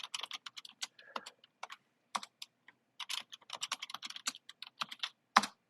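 Fingers type on a computer keyboard while spreadsheet dates are entered, sending out quick bursts of close key clicks with short pauses between them.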